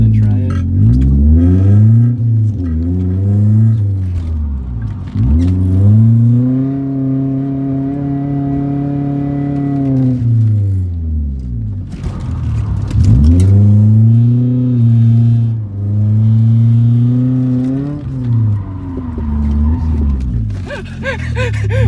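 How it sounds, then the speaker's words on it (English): A car's engine revs and drops repeatedly through gears as it drives with the handbrake pulled, loud and close inside the cabin, with a voice talking over it at times. "Now let's give this e-brake a little tug, see what happens."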